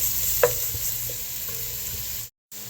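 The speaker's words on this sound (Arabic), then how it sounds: "أقلب البصل وحطيت هنا ثوم، أقلبهم لين كده" Onion and garlic fry in a pan while being stirred, giving a steady soft sizzle with a single sharp scrape near the start, heard close, before a brief cut to silence and no talking.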